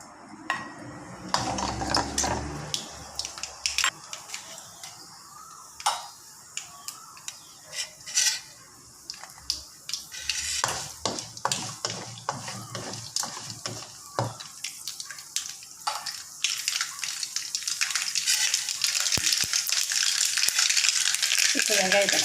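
Mustard seeds hit hot oil in a pan, setting off scattered pops and crackles that build into a steady, dense sizzle toward the end, with a voice talking at times over the cooking.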